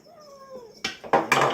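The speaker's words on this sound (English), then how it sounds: "Kitty's here, she's helping." A house cat meows in a kitchen during sourdough bread making, a rising tonal cry followed by a few sharp, loud clattering bursts nearby.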